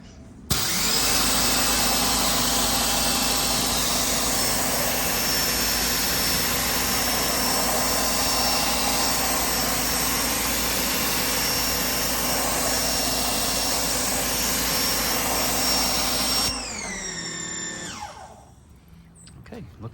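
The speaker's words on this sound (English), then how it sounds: "now I'm just gonna hit it with the power washer" A power washer sprays the underside of a Lotus Evora during an oil change, a loud steady hissing jet lasting about sixteen seconds before cutting off and whining down.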